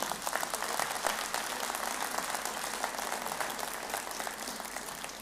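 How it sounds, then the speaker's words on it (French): A concert audience at the Harmonie de Terrenoire's 125th-anniversary concert applauds dancers from the Roche Danse school with steady, even, sustained clapping from a large crowd, moderately soft and unbroken throughout. "On peut applaudir encore les danseuses de l'école Roche Danse, s'il vous plaît."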